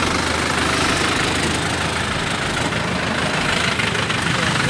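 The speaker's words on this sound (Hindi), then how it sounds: "ये हमारे ट्रैक्टर में तकलीफ हो गई" A tractor engine with a fault idles close by, a loud, steady, dense mechanical chugging that fills the whole stretch without pause.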